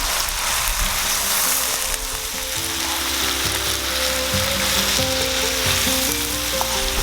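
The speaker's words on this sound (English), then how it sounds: "And stir the masala." Masala spiced with garam masala is stirred and fried for vegetable dum biryani, giving a loud, continuous sizzle with a faint mechanical whirring and ticking underneath, and no voices.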